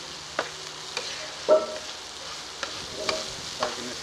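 Brain masala, bheja fry, being stirred in a pan with a spoon: sparse scraping taps against a soft steady sizzle, alone and close by.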